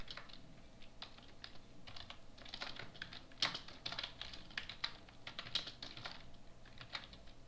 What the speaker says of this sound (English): and type the email subject.